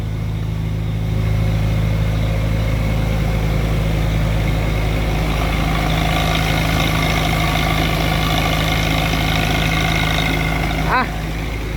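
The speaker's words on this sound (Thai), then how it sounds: "ขันท่อไอเสียรถ ท่อสูบซิ่ง" A truck engine with a modified racing exhaust rumbles steadily at idle with a deep, throaty exhaust, its pitch rising slightly in places, with faint voices in the background.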